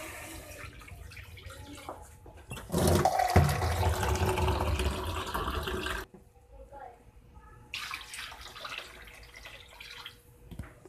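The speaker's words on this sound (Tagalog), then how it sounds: "lagyan na po natin ng tubig" About two and a half cups of water poured into a hot pot of chicken and ginger for tinola with chayote, a loud rushing pour lasting a few seconds amid quieter kitchen clatter and a voice.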